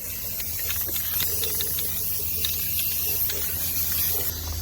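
Semi-gloss black Rust-Oleum spray paint hisses continuously from an aerosol can during spray painting outdoors, a close, steady spray with slight pulses and no talking.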